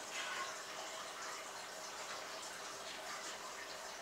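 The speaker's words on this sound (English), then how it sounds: "I think I may need to add some more water." Water pours steadily into a cooking pot of pelau (arroz con pollo) on the stove, a continuous broadband splashing rush that holds at an even level throughout with no talking.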